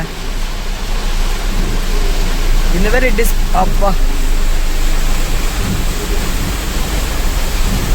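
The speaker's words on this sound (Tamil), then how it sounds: "காவாலிலேருந்து நல்ல மழை." Heavy rain drums on a goods truck driving past Kavali on the Hyderabad to Koyambedu market route, a dense steady roar throughout as someone talks over it.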